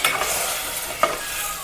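Water is poured over hot tempering oil for a stuffed brinjal curry, giving a brief close sizzle and stirring scrape with a sharp hiss burst about midway.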